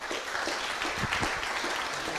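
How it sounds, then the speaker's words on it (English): A careers fair audience gives a short, fairly quiet round of applause, with steady, dense clapping that continues for a couple of seconds. "Give them a round of applause, please."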